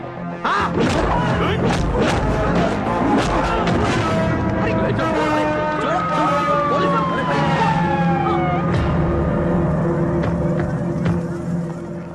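A police jeep's wailing siren sweeps up and down amid busy, dramatic background noise and clatter, fairly loud throughout.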